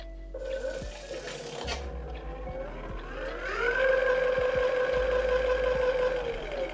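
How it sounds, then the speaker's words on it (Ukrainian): A homemade electric bicycle's hub motor spins up on throttle, a steady whining electric tone that rises in pitch and then holds, with a few clicks and a low hum underneath, fairly close. "Моторчик крутиться."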